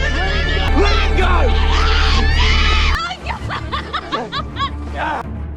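A woman screams amid a night-time confrontation involving a rifle on a camping trip, loud, sustained, high-pitched cries filling the first three seconds, then shorter, broken shrieks and gasps continuing over a lower background.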